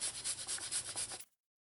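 Garlic is grated on a handheld grater in close, rhythmic scraping strokes, about eight quick rasps in a row before stopping abruptly into silence.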